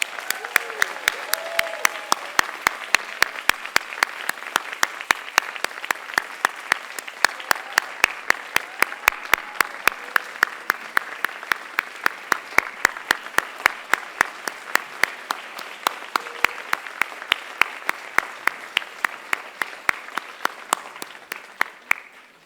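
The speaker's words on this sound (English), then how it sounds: "So let's hear a round of applause for our alumni difference makers." Audience at an alumni awards ceremony clapping steadily, a dense, even round of applause that goes on for about twenty seconds before thinning out near the end.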